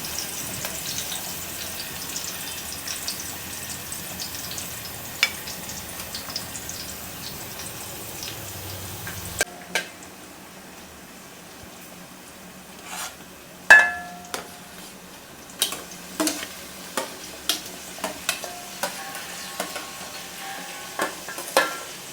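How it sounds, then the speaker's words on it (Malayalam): Onions and green chillies sautéing in a pan, a soft frying hiss that thins out midway, followed by scattered clinks and taps of a spoon stirring, with no talking. "ഉള്ളി സവാളയും കൂടി ഇത് ചെയ്തിട്ടുണ്ട് പിന്നെ നമ്മൾ പച്ചമുളകും കൂടി ഇട്ടിട്ടുണ്ട് അത് മുരിഞ്ഞു വന്നു"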